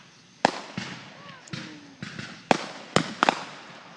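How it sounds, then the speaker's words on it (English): Fourth of July fireworks go off outdoors in a string of sharp, loud bangs, roughly seven bursts spaced irregularly, with crackling tails and faint whistles fading between them. "Fireworks."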